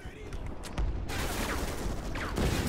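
Gunfire rattles in a Call of Duty: Ghosts battle, with dense bursts of shots and explosive crackle continuing throughout at loud volume.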